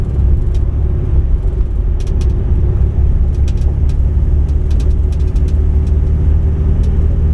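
Steady loud idling engine of a 1959 Chevrolet El Camino with a 348 Tri Power V8 that runs worse as it warms up, a constant low rumble with faint ticking above it and no talk.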